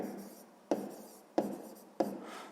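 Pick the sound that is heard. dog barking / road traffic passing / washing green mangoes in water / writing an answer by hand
writing an answer by hand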